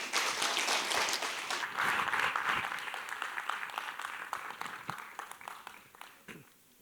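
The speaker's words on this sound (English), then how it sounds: "Can we welcome him with a round of applause" Audience applause welcoming Dr. Rajagopal at a talk on palliative care in elder care, a dense steady round of clapping that slowly thins and fades over several seconds, with no voices over it.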